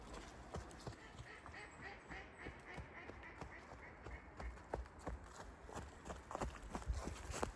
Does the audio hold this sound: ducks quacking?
yes